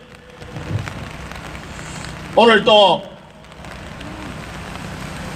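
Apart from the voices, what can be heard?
rain falling during outdoor rally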